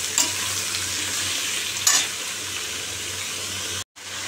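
Papaya curry cooks in a pan with a steady close sizzle, broken by two brief stirring scrapes and a short sharp cutoff near the end.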